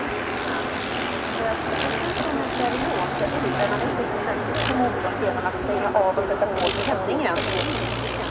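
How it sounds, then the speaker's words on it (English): A Tummelisa, a vintage Swedish trainer modelled on the Nieuport fighter, drones with its 9-cylinder 80 hp Le Rhône rotary engine, a steady buzzing roar at an air show, with someone talking over it. "The Tummelisa has a 9-cylinder Lerone 80 horsepower rotary Tullin A engine"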